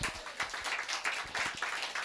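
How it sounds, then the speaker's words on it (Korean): A church congregation at a Korean service breaks into applause, a dense run of overlapping hand claps rising and falling in small surges for a couple of seconds, fairly close, with no talking. "우리 하나님께 영광의 박수를 드리겠습니다"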